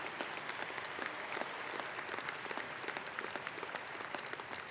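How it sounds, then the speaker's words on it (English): Crowd applause at a high school graduation ceremony, a steady wash of many hands clapping at moderate distance, quiet and continuous with scattered sharper claps. "That's a long list of accomplishments that deserve a round of applause for these groups of students."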